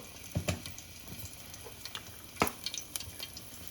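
Crushed garlic dropped into hot oil, a faint sizzle with a few sharp crackles and pops near the start and middle, quiet and close.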